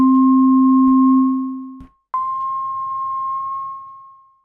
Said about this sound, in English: that's a whistle, believe it or not